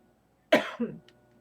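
A single sharp cough, close and abrupt, followed by a smaller second burst, then quiet.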